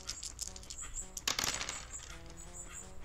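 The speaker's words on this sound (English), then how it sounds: "since the dice landed on four" Dice rolling in a Yu-Gi-Oh video game, a quiet series of light clicking and clattering hits with a sharper burst of impacts in the middle, faint tonal game music underneath.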